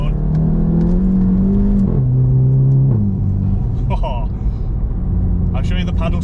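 VW Golf GTI MK7.5 fitted with a Remus exhaust revving loudly up and down, the engine note climbing and dropping in stepped pitch, with crackles and pops near the end.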